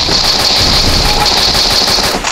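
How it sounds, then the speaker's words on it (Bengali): Rapid automatic gunfire from a video game battle, a continuous loud burst of machine-gun fire running without a break from start to finish. "উল্টা পেছে দেখা একটা গুলি শট লাগা"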